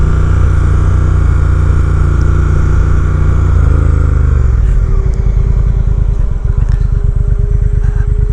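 A 2020 Triumph Speed Twin exhaust roars loud and close while riding, holding a strong steady drone before the engine note shifts and settles into a lower rhythmic throb, with no talking.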